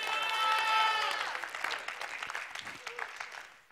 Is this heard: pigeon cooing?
no